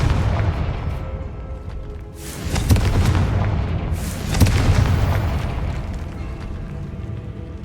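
Confringo blasting spell in Hogwarts Legacy: two deep booming explosions about two seconds apart, each a sharp burst that rolls into a rumble, over a steady background of game noise.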